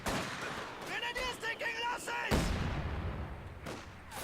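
A rifle grenade bursts on top of a 120mm mortar in the Company of Heroes 2 video game, a sharp, loud explosion midway through amid scattered battle gunfire and game voice chatter.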